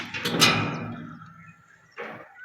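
A sliding door at a village house rolls along its track with a rumbling scrape that fades as it slows against the stopper, followed by a second, shorter roll and a soft knock.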